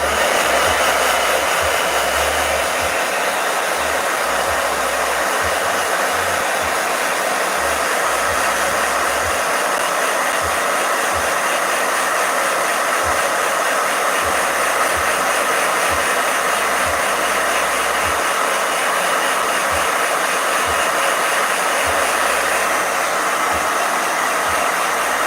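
A blow dryer runs continuously for a long stretch, a loud, steady airy roar with a low motor hum that flutters slightly, close by and alone without talk.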